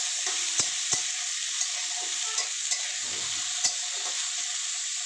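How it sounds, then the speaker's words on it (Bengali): Chopped onions fry in mustard oil in a wok with a steady broadband sizzle and a few sharp clicks of a spatula, close and with no voices. "এইবার দেখো আমি কড়াতে পেঁয়াজ কুচি দিয়ে দিই।"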